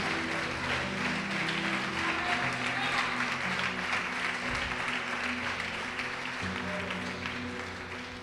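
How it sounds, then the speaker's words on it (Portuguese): A church congregation applauds, a dense sustained wash of clapping from many hands that holds steady and slowly fades toward the end. "Pode aplaudir o Senhor e glorificar a Deus"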